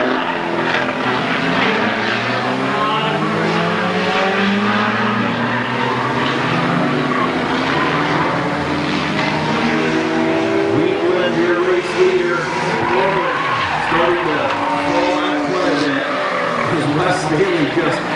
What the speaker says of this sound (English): Wes Staley just smoking that right front tire